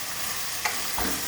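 Pork frying in a pan as paprika, chili flakes and seasoning are stirred in, with a steady sizzle and two brief scraping stirs.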